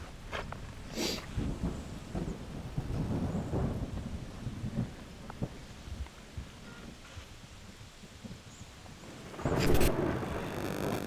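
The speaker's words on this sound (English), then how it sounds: "It's starting to rain." Thunder rumbling with rain falling outdoors near a chateau, a steady wash of rain under repeated low rolls and a sharper crack of thunder near the end.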